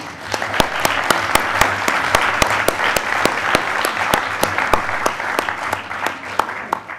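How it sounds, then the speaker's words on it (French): A conference audience applauds the speakers after a round-table session on the future of life insurance, a steady, close burst of clapping that carries on without a break and includes several sharp, distinct hand claps. "Donc je pense qu'on peut applaudir nos intervenants."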